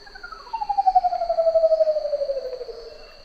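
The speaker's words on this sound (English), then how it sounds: "Out of all the birds of paradise, one of the most haunting and intriguing vocalizations comes from the curl-crested Manucode." A curl-crested manucode, a bird of paradise from islands off New Guinea, gives one long, eerie, gliding whistle that slowly falls in pitch and swells in a wavering pulse. A steady high hum runs underneath.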